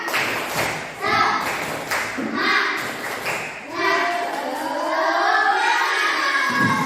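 A class of schoolchildren does a tepuk semangat chant-and-clap routine, rhythmic bursts of hand claps and thumps mixed with shouted children's voices, fairly close and lively.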